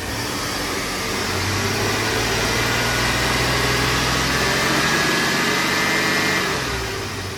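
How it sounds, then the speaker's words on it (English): The engine of a 2012 Infiniti G37 revs in a shop bay: a steady mid-pitched hum with a modest rise in revs toward the end, fairly loud and close, with no talk. "Adam, you want to rev it up real quick?"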